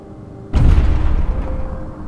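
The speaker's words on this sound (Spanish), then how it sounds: "Pero ahora sí que están cayendo más bombas o explosiones simplemente." Bombs explode in the puzzle video game Gorogoa: a sudden deep boom erupts, followed by a rumbling, crackling tail that slowly fades, with a faint steady tone lingering underneath.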